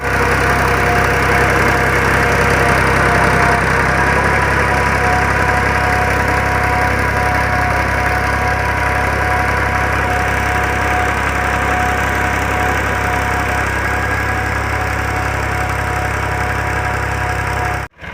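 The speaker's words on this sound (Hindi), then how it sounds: "वो जा रहा है जी ट्रैक्टर, गाड़ी जा रही है प्लांटर लेके।" A tractor pulls a planter across a field, forming 16-inch ridges with furrows for NARC G1 garlic. Its steady, loud engine drone and rumbling noise hold for the whole stretch without a break, and nobody talks.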